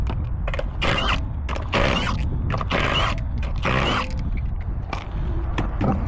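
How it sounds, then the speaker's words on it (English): A 22 mm socket on a ratchet loosens lug nuts on a 2016-2022 Honda Pilot front wheel, giving close creaks, clicks and metallic scraping with short bursts of grinding mechanism noise. "22 millimeters, going to remove these lug nuts."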